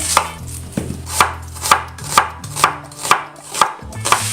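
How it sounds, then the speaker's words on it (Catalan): A knife julienning an onion chops steadily on a cutting board, about nine evenly spaced cuts in a regular rhythm, close and clear with no talking. "Mentrestant anirem tallant la ceba juliana"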